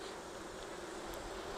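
Honey bees buzz in a steady, close drone during a hive brood inspection, a continuous hum with no talk over it.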